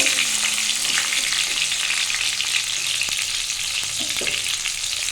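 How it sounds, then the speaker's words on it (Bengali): Tomato frying in a pan for a Bengali fish curry with potato and pointed gourd, a steady loud sizzle that runs unbroken throughout, with a few faint scrapes of stirring. "আমি এর মধ্যে এবার একটা টমেটো দিয়ে দিলাম টমেটো মেরে ভালো করে একটু ভেজে নেব"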